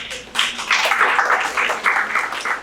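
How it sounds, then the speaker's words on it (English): Audience at a chamber of commerce small business panel discussion giving a round of applause: a burst of clapping starting after a short pause, steady and moderately loud, continuing throughout. "can we have a round of applause for this panel?"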